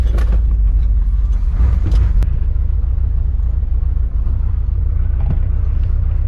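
A 1989 Chevy 1500 4x4 pickup truck drives in second gear, with a loud, steady low engine rumble and road noise throughout and a few brief knocks early on.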